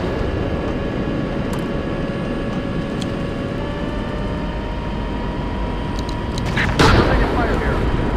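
A tank cannon fires in the Steel Beasts tank simulator, a single heavy, loud blast near the end that cuts through a constant humming engine drone inside the vehicle.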